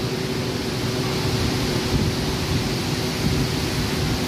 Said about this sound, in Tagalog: lumalakas na po yung ulan natin